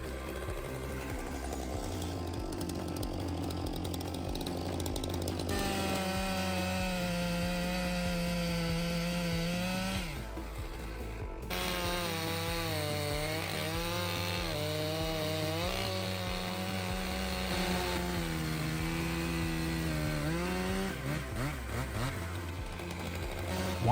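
An MS661 chainsaw engine roars loud and close as it cuts through logs during heavy firewood processing, its pitch rising and falling steadily for the whole stretch with no voices.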